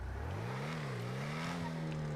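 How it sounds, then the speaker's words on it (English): Emperor Vectre sports car in GTA 5 Online accelerating on a top-speed run, a steady rising engine drone with a smooth upward pitch sweep, loud and continuous with no talk. "And now we'll drive this to Chumash and drive it back and see what we can get for a top speed."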